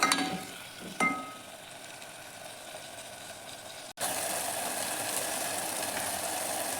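Tomatoes frying in a pan, a soft hiss after a couple of sharp utensil clicks at the start, then a sudden brief cut and a louder, denser sizzle continuing steadily to the end, without talk.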